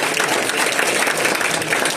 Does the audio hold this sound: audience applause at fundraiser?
yes